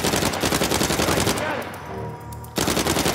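Rapid automatic gunfire from the Uncharted 4 video game, loud, dense bursts of rattling shots that fill most of the clip, pausing briefly before resuming abruptly.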